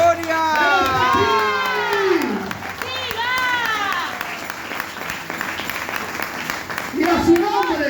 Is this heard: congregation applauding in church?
yes